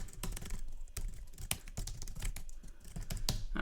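Card details are typed on a computer keyboard in a quick irregular run of sharp clicky keystrokes, close and fairly quiet, with no voices.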